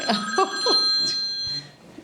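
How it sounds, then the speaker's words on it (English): A telephone rings during a 2023 oral-history interview, giving a few bright, electronic ringing bursts close by that cut off after about a second and a half. "It wouldn't be an interview in 2023 without a phone ringing."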